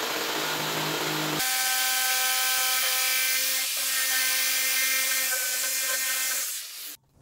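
A hand saw cuts wood while building a small waterproof, fire-resistant bath chair: a steady, continuous rasping cut runs close and loud for about six seconds, then stops abruptly. No one speaks.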